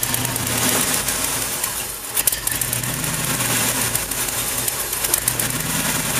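A 1981 Chevy van fitted with a 1986 IROC TPI engine runs at a rough idle just after starting, a steady low rumble with a brief dip and surge in the middle, fairly close with no talk.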